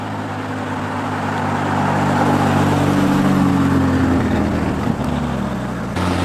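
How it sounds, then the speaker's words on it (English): A McLaren 570 GT sports car passes nearby, its engine hum swelling to a broad, steady roar over a few seconds before easing off as it moves away, with no talking. "That was a McLaren 570 GT."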